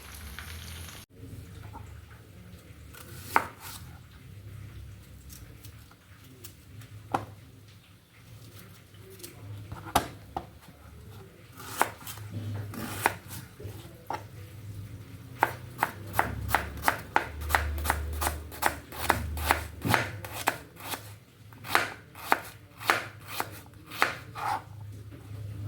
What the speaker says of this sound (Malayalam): ആ സമയത്ത് നമുക്ക് സവാള അരിയാം.